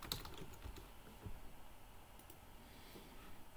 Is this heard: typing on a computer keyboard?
yes